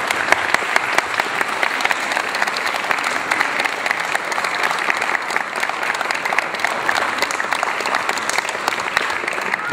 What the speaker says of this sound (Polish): Ja proponuję olbrzymie oklaski.